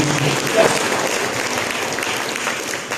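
Church congregation at a sermon gives a brief round of applause, dense clapping at an even level with some crowd noise mixed in.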